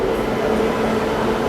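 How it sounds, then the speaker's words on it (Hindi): The Gorakhdham Superfast Express pulls into platform 7 with a loud, continuous rumble of rolling wheels and a low mechanical drone, heard up close without any talk. "अपनी गोरखधाम सुपरफास्ट एक्सप्रेस का अराइवल हो रहा है प्लेटफॉर्म क्रमांक 7 पर"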